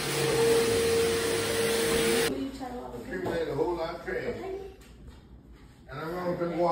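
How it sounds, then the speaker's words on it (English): Vacuum cleaner running on the floor of a new apartment, a loud steady whine for about two seconds before it cuts off, followed by people talking. "Vacuuming the floor."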